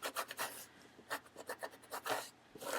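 A cloth scrubs and wipes leftover ink off a metal stamping plate in quick, rhythmic rubbing strokes, close up and fairly quiet, with short pauses between bursts.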